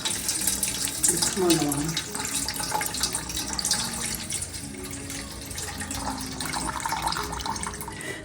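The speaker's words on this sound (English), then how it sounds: "depending on where you get your Bulgar, you want to give it a couple rinses." Tap water runs steadily into a sink while bulgur is rinsed for an Assyrian meatball stew, with a continuous splashing rush throughout and a voice speaking briefly near the start.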